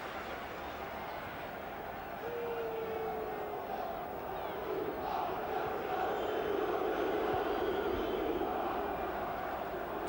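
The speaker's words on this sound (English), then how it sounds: "predictably Cantona being booed every time the ball is at his foot" Football crowd in a packed stadium at a 1994 Leeds United versus Manchester United league match, booing Cantona: a steady, dense roar of massed voices that swells after a couple of seconds and holds loud throughout.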